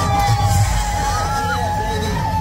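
Crowd of haunted house visitors at the 17th door screaming and cheering in a loud, sustained burst of mixed shouts and whoops, with steady background hum beneath.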